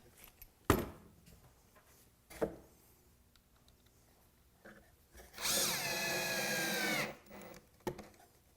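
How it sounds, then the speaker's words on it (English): A power drill bores a hole in wood during construction of a planter box. It gives one steady whirring burst of about a second and a half, with scattered knocks and handling clatter before and after. "Got to drill the hole before you drive."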